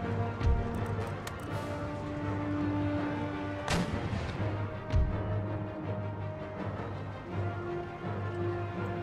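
Field artillery and mortars fire in the video game Empire: Total War, with a few sharp booming shots spaced apart over a continuous battle din and music.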